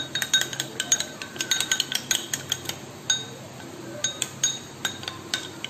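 A spoon clinks steadily against a bowl while flour and water are mixed into a batter, giving a run of bright, close taps and scrapes, with no speech.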